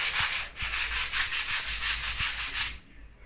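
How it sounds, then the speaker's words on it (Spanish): Sandpaper rubbed by hand across a wall during room renovation, a rapid steady series of close, loud scratchy back-and-forth strokes that stop abruptly near the end. "Lo cogemos la lijita."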